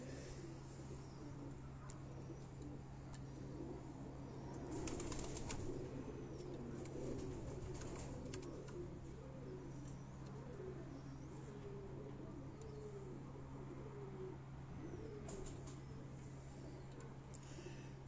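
Misa breed pigeons on a rooftop loft give soft, low cooing throughout, with faint wing flutters and distant chirps under a steady background hum, while people talk nearby at times.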